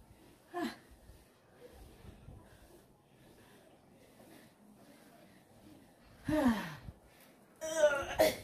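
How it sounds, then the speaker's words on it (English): Heavy breathing after a home workout: a few loud gasping pants and exhalations come in separate bursts, with quiet stretches between them and no talking. "Look at the way we are panting."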